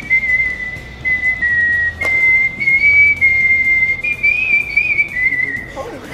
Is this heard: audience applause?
no